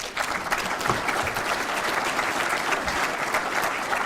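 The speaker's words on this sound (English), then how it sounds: "big round of applause for the committee members, Lori and Wayne Miller." Banquet guests at a softball hall of fame dinner give a steady round of applause for committee members, even and sustained throughout.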